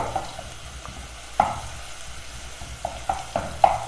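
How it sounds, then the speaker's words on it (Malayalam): Crushed ginger and garlic sautéing in hot coconut oil for a fish dish, a soft background sizzle broken by several sharp spoon-against-pan knocks and stirring scrapes. "ഇഞ്ചിയുടെയും വെളുത്തുള്ളിയുടെയും പച്ചമണം മാറുന്നതുവരെ ഒന്ന് വഴറ്റി കൊടുക്കാം"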